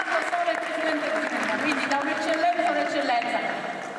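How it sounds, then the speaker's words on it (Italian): Audience applause at a sports film festival awards ceremony, a dense, steady wash of clapping that fills the whole stretch, with voices sounding through it. "ci sta l'applauso"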